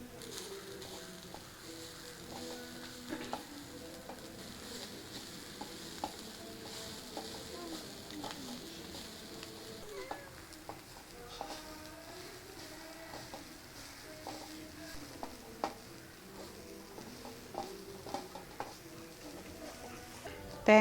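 Dried red chillies and coconut frying in a pan for a sadya koottukari, a steady soft sizzle with light stirring and scattered crackles and pops throughout.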